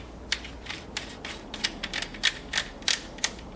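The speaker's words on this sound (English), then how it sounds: "make sure you pull the bolt back ever so slightly before seating the whole thing" Bolt of a Benelli Super Black Eagle 3 black synthetic shotgun worked back and seated, a close series of crisp metallic clicks and ratcheting snaps in uneven rhythm.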